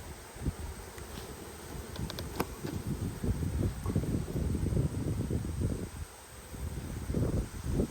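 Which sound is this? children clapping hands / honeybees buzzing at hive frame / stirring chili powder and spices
honeybees buzzing at hive frame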